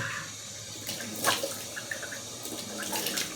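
Cold water runs from a tap at a bathroom sink during a wet shave, a soft, quiet splashing stream with a few brief louder gushes and no talk.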